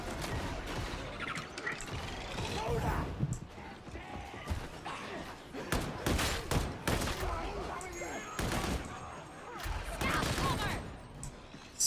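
Video game gunfire from Darktide, with repeated bursts of shots and impacts in a dense, chaotic fight mixed with other game effects, while voices talk over much of the action.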